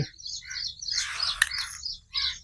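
Small birds chirp and tweet in quick bright bursts while grain is scattered for them, several overlapping calls near at hand with a short pause before a final flurry; no one talks.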